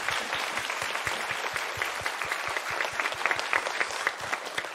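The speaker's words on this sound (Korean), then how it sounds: "우리 하나님께 영광의 박수를 올려드립시다." A church congregation at an Easter Sunday service claps loudly and steadily, a dense, continuous burst of many hands with an even rhythmic pulse, close and filling the room.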